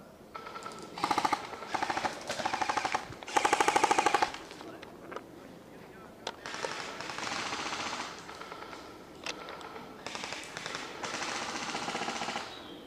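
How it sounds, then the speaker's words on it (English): Airsoft guns firing in bushes during an airsoft game, with rapid bursts of automatic fire in several loud clusters separated by short pauses, under faint background noise. "what are you shooting at?"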